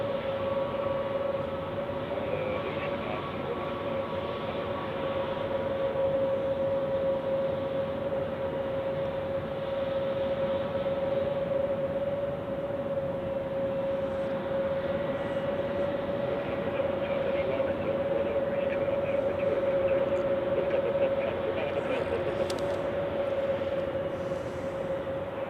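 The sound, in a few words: Lufthansa Airbus A319 on the runway at Zurich Airport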